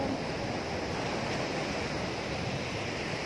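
Sea waves wash on the shore in a steady, loud roar of surf mixed with wind noise on the microphone, with no voices.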